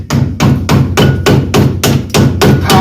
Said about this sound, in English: pound this pin in